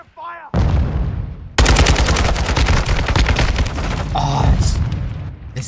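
Loud, dense automatic gunfire rattles almost without pause in the Modern Warfare 2 video game, with heavy booming shots under a busy battle mix and voices talking over parts of it.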